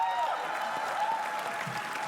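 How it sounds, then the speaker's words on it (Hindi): An audience at a comedy roast show breaks into sustained, dense clapping that stays loud and even throughout, with no one speaking over it. "तालियां प्लीज"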